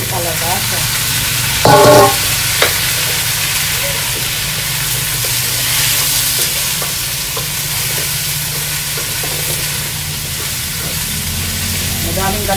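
Squash pieces drop into a pan of crab simmering in coconut milk, giving a steady sizzle with a brief clatter near the start and stirring scrapes throughout, with no talk.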